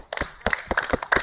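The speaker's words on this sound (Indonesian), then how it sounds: "Tepuk tangan untuk kelompok 2." A classroom of students gives brief, quick clapping for a student group, a short burst of close, uneven hand claps.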